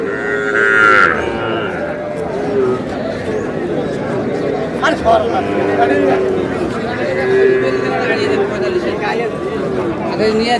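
Small bull calves and heifers low at the Ambari cattle market in Dinajpur, with a few drawn-out moos rising over a constant noisy crowd of people talking and milling around.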